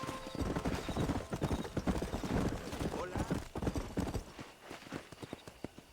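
Hooves of a galloping horse in the Red Dead Redemption video game pound in a fast, continuous rhythm, loud and close, with a whinny mixed in and some voices under it.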